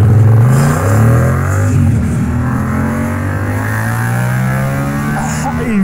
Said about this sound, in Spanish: Es muy, pero que muy chulo como suena ahora mismo la moto.